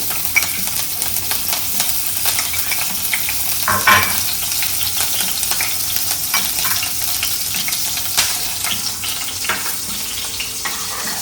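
Cumin seeds and pieces of green chili crackle loudly in hot oil. The sizzle holds steady with dense little pops and a brief louder burst near the middle, and no voice is heard.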